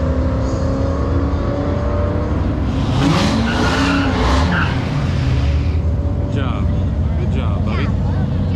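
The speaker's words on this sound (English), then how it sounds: "Good burnout there, just enough to get the tires clean." A drag racing car does a burnout at a drag strip, its tires squealing and engine roaring loud and steady throughout, with a rising wail midway and spectators talking over it.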